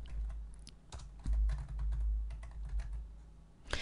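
Keys on a computer keyboard clatter in a quick, uneven run of close, soft taps while a user-defined function is typed into Excel, with no voices.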